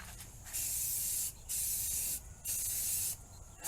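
A rattle can of spray paint hisses in three separate close bursts onto a Jeep CJ5 body, with quiet gaps between them and no voices.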